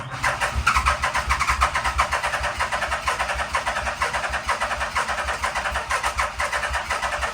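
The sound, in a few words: 1987 Yamaha engine being started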